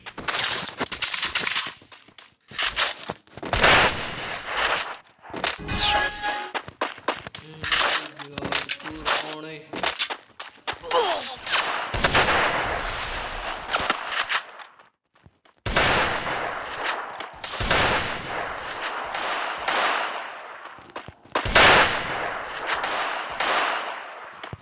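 Free Fire gameplay gunfire with headshots, sharp repeated shot cracks and bursts scattered through the clip over game sounds, with a voice talking over much of it.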